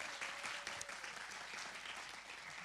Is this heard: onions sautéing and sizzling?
no